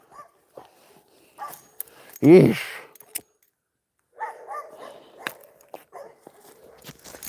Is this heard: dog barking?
yes